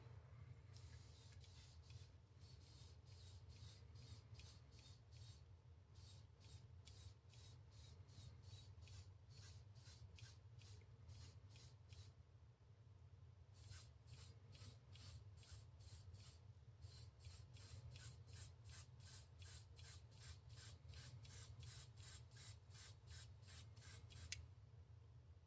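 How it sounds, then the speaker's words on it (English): Spray paint mists lightly from a distance onto a 3D-printed Catwoman portrait in long, faint repeated bursts with short pauses, over a low steady background hum. "I'm just going to go around and lightly mist her from far away"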